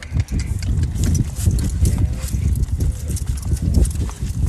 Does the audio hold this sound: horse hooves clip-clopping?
yes